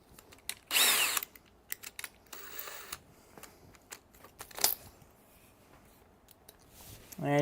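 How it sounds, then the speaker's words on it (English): A power drill on its high torque setting drives screws through aluminum during a van flooring install, giving several short, loud whirring bursts separated by quieter pauses, with a person talking in between. "you want your drill on the high torque setting"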